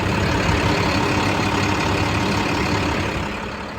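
A 2008 International 4300 diesel dump truck with a 10-foot dump body and 20,000 miles runs steadily near the microphone, a dense constant engine drone that eases slightly in loudness at the end.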